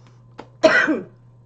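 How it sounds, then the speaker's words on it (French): A single short cough, close and fairly loud, preceded by a faint click, in an otherwise quiet room. "Pardon, je tousse"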